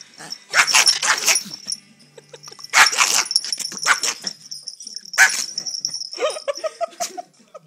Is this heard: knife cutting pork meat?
no